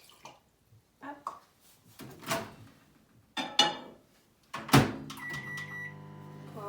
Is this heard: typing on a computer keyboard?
no